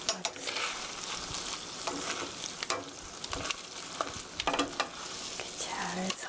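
Spaghetti with tomato sauce and ground black pepper is stirred in a pan, a steady sizzle under repeated scraping and tossing strokes with occasional utensil knocks, close and continuous.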